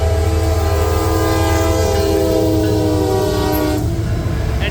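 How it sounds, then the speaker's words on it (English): A CSX coal train of loaded cars rolls past Watersville on its way to Baltimore, Maryland, making a loud, steady rumble and rail clatter close by, with a horn-like tone drawn out through most of the pass. "And it's a coal train."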